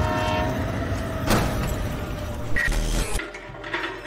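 Train approaching, a broad steady rumble of rail noise with mechanical clatter and a brief tonal horn-like note, loud and continuous before cutting off sharply near the end.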